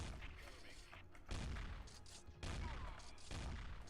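Rapid gunfire bursts and booms fill the video game D.I.R.T.: Origin of the Species, with loud volleys starting abruptly and continuing throughout.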